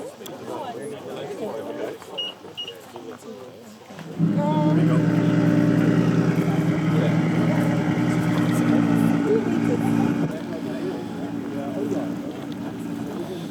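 A 2025 BMW X3 (G45) reversing under remote smartphone control over Bluetooth: its engine hum swells in and runs steadily close by for several seconds, then drops back, with people talking throughout.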